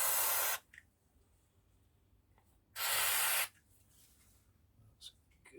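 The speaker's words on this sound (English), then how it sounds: "A bit of brake cleaner." Two loud bursts of brake cleaner spray on a 1946 Boxford lathe pulley unit, each about half a second long, separated by a pause with faint handling noises.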